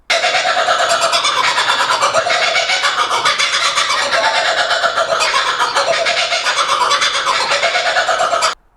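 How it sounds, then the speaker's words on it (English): Kookaburras in the Australian bush, a loud, continuous chorus of raucous cackling calls layered over one another, steady throughout with no pauses and no talking. "So this is the sound that the Kookaburra makes."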